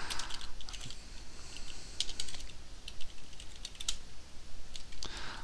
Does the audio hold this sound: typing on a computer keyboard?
yes